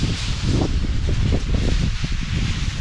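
Strong wind blowing through the golden and silver Bodhi-tree leaves at a pagoda on Samui, giving a dense continuous rustle and low gusty rumble close to the microphone.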